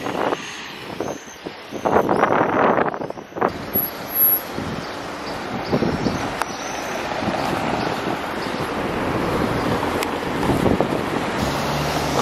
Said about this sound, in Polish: Jest wiatr i wy nie będziecie nic słyszeć.